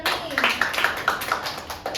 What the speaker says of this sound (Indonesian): Tepuk tangan dulu untuk Doni.